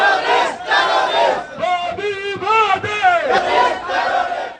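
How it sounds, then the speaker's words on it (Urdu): Demonstrators outside the Indian Embassy in Madrid chant anti-India and freedom slogans, a loud, close crowd shouting in rhythmic call-and-response bursts that carry on without pause. "اس موقع پر فضا بھارت دہشت گرد اور آزادی کے نعروں سے گونجتی رہی"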